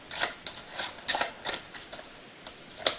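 Playing cards being mixed by hand during a card trick, a sequence of soft, crisp riffling and sliding bursts at an irregular rhythm, close and fairly quiet, with no voices.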